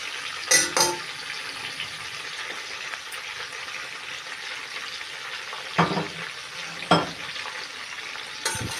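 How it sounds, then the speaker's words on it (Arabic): Julienned onions fry with oxtail in a pan, giving a steady close sizzle broken by a few sharp scrapes and clatters of stirring. "هنكرمل البصل معاها بقى، هنحمر البصل كده معاها لحد ما يكرمل."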